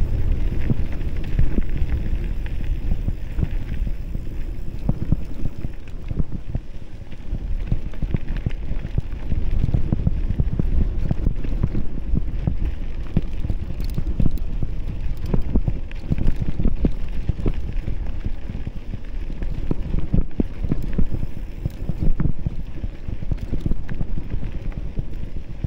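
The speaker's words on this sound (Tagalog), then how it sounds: "Lakas ang hangin." Strong wind gusts across an outdoor hiking trail, a steady low roar buffeting the microphone for the whole stretch with no voices.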